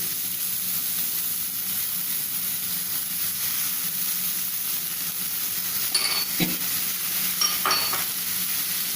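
Potatoes with masala are stirred in a pan for a halwai-style shahi kaju paneer samosa filling, giving a steady close sizzle with a couple of sharp spoon scrapes toward the end and no voices.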